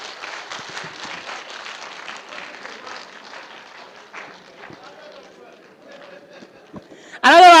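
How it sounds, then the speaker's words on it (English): An audience at a forum in Gombe, Nigeria applauds, a sustained patter of many hands clapping that gradually thins and fades, followed by a sudden loud burst of sound at the end. "Another round of applause for Barrister Sonny Oswagu, OON."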